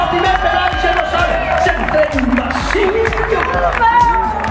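Spectators applaud and cheer riders crossing the finish line of the first stage of the Volta Ciclista, Valencia to Gandia, with steady clapping under loud commentary and crowd noise.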